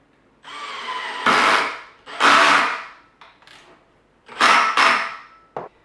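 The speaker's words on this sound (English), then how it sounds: "And drive one of them screws in." A power drill drives screws into the wood of an IKEA YPPERLIG table. Several loud, close whirring bursts are separated by short pauses, ending with a brief final zip and no talk.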